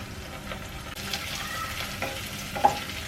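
Shallots and a handful of torn curry leaves sizzle steadily in hot oil in a pan for a Kerala-style chickpea curry, a continuous close frying hiss with small pops and stirring.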